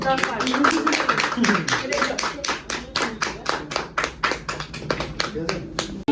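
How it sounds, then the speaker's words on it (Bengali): A small group claps at a home wedding anniversary celebration after a cake is cut, a quick rhythmic run of close hand claps lasting several seconds, with voices chattering over it. "হাততালি দাও।"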